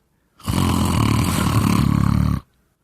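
A loud, close, rasping snore-like sound lasts about two seconds with a rough pulsing texture, likely a person imitating snoring, alone without other talk.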